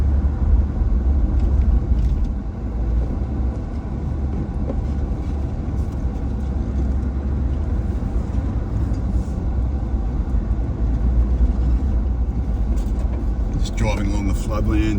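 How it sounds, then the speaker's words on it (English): A vehicle drives along a floodland track beside a marsh, giving a constant loud rumble of engine and tyres with rattling bumps throughout, close and steady, while someone talks over it. "Driving along the floodlands here."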